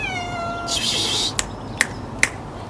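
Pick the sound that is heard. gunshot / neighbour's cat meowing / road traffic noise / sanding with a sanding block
neighbour's cat meowing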